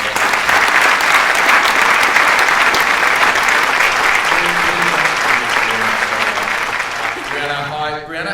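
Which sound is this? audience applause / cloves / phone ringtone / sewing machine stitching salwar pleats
audience applause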